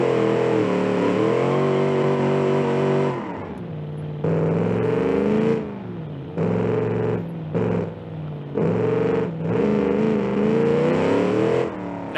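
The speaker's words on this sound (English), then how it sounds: "Let's see if it'll do a burnout, though." A 5.0 Datsun car in BeamNG.Drive roars through a burnout, loud engine revving in bursts with gaps between pulls, rising and falling pitch and harsh distorted tone, with no talking.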